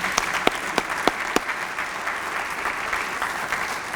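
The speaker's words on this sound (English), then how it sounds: "I'd ask you to join me in a round of applause for your parents" An audience at an 8th grade moving-up ceremony applauds the students' parents, a steady wash of many hands clapping with a few sharper claps standing out near the start.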